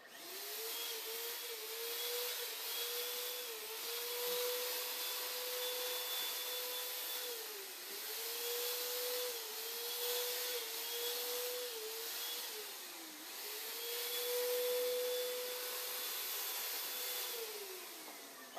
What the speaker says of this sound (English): I'm going to continue to spray the bumper and the front of the car normally.